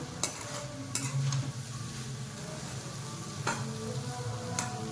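Cooked dal with coriander gets stirred in a pot: a gentle sizzle runs under several sharp spoon scrapes and taps against the metal, spaced irregularly.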